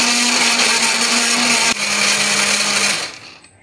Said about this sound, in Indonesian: di sini biar lebih gampang untuk menghaluskan pakai blender, cabenya akan kita potek-potek lebih dulu